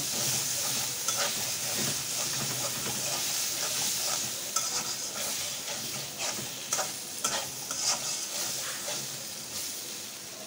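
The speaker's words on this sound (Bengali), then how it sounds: "টমেটো কুচিটা ভালোভাবে কষায় নেব।" Chopped tomato sizzles in a pan as it is sautéed with spices, a spatula stirring and scraping in irregular strokes over a constant frying hiss, close and moderate in level with no speech.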